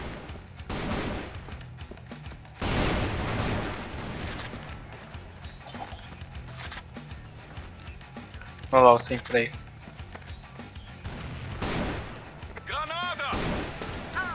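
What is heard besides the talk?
gunfire in the video game CrossFire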